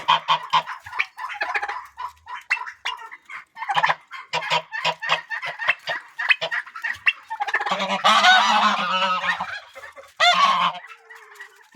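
A goose honks over and over, a series of close, nasal calls that build into a louder, longer burst of honking.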